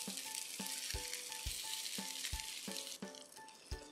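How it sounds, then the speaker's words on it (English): Idli tikkis shallow fry in a pan with a steady, close sizzle, broken by repeated soft knocks and stirring sounds at a regular pace, and no voices. "Shallow fry these tikkis till golden brown"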